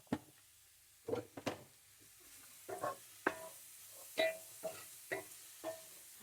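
Vegetables sauté in a pan with added salt, giving a quiet background sizzle broken by several short scraping stirs of a utensil against the pan.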